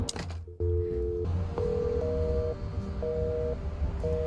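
Phone dialing in the video game Chicken Police: clear electronic tones step through a short sequence of steady beeps at changing pitches, loud and close over a low background hum, with no voices.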